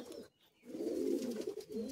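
Racing pigeons coo close by, a couple of soft throaty rolling calls with a brief pause between them, no talk over them.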